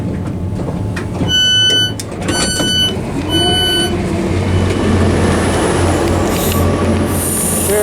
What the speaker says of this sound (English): You can hear an IET leaving.